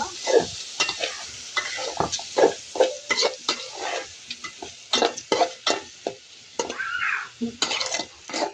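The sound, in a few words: lentils (dal) being fried in a pan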